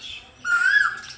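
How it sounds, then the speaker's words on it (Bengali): A koel cuckoo calls outdoors among trees, one short, loud, rising whistle-like note after a brief softer chirp, fairly close and clear with no talking. "কোকিল ডাকছে।"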